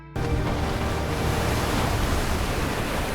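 Ocean waves at sea roar as a steady, dense wash of surf noise, loud and unbroken from start to end with no voices.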